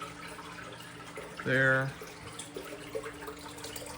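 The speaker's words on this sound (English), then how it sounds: "now it's time to fill her back up. I got these two pumps here running." Two pumps run continuously as they refill a 90-gallon aquarium drop-off tank, a steady rushing water sound beneath a brief spoken word.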